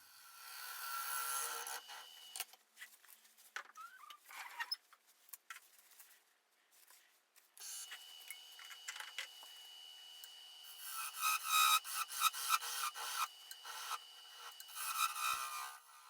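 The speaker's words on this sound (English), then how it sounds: "I've switched to the 1/2-inch 40/40 gouge that I ordered from Cindy Drozda." A 1/2-inch 40/40 bowl gouge cutting a quartersawn wood bowl on a lathe, a bright hissing shear that comes in bursts, drops nearly away mid-clip, then returns louder and steadier, with no talk.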